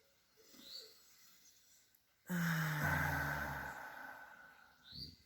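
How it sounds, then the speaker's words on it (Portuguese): One deep breath, a long airy inhale and exhale lasting a few seconds, close and clear in a quiet setting during a guided meditation lesson, with faint breathy sounds before and after it. "Vamos iniciar com uma respiração profunda"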